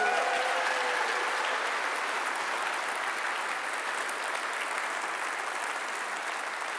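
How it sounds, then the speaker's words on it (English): An audience at the Liberal Democrats spring conference in York applauds in a steady, dense wash of clapping that holds at an even level throughout, with no voices standing out. "Give them a big round of applause"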